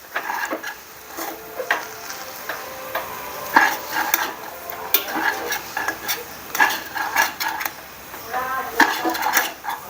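Chicken hakka noodles tossed in a hot pan with dark soy sauce and vinegar give a busy run of clattering spatula scrapes and metal clinks over a light sizzle, close and fairly loud throughout.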